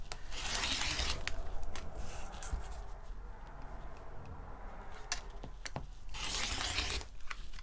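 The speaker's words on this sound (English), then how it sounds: "The good old Olfa cutter does the job." An Olfa rotary cutter slicing through zipper fabric on a cutting surface gives a steady rasping, scraping run with scattered sharp ticks, growing louder near the start and again toward the end.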